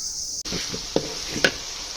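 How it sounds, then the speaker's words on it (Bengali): Garlic paste and bay leaves fry in a pan with a constant soft sizzle. A couple of sharp spoon knocks and scrapes from stirring cut in near the middle and later in the clip. "তারপর এটাকে আর একটু ভালোভাবে কষিয়ে নিতে হবে।"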